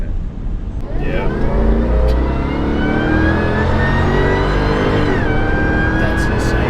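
A supercharged Toyota Tundra pickup accelerates hard with a loud, close engine note climbing in pitch, plus a rising supercharger whine that dips and resumes, while people talk over it.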